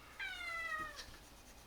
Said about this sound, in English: Oh, and that's my sweet kitty